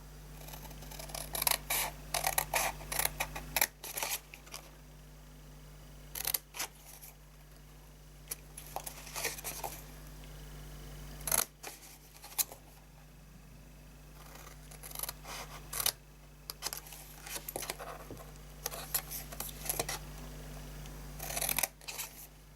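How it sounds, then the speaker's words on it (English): Scissors snip paper cardstock for a handmade fold-flat gift box, a series of quick crisp cuts in uneven bursts, close and fairly quiet, with a low steady hum underneath. "So now we're going to get our scissors and we're going to cut that away."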